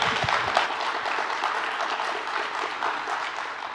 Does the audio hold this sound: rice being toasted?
no